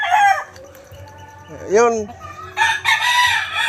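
A rooster crows once on a rural Philippine farm, a clear rising-then-falling call close by, with people talking before and after it.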